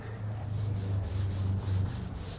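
Clay bar rubbing over contaminated paint on a Mustang, a steady rough scraping texture repeating in even strokes, close and fairly quiet, with a low hum underneath and no talk.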